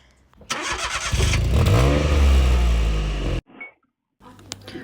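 A Toyota Aygo engine roars loudly from inside the cabin, its exhaust revving with a rising and falling tone, then cuts off abruptly, followed by quieter rustling.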